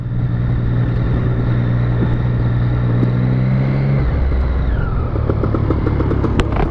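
A motorcycle engine drones steadily close by, its pitch dropping sharply partway through as it shifts, then idling with sputtering pops.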